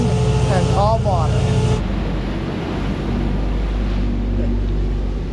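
A fishing boat motors out of Astoria toward the open sea, with a loud steady engine drone and wind and water noise, and a brief higher tonal sound early on before the rumble settles.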